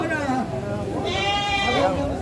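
Goats bleat in a wavering, repeated call, one long bleat rising midway through, close and fairly loud with people talking over it; the goats were bought as a pair for slaughter.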